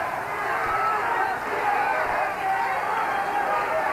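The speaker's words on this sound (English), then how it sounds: "Crowd is on his feet yelling magic." Boxing crowd at a 1983 hometown fight for Cliff "Magic" Thomas, a dense, steady roar of many voices yelling and cheering together throughout, loud and continuous with no single voice standing out.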